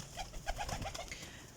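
Flying pigeons cooing in a short run of soft, low, repeated coos, faint and close, with no voices.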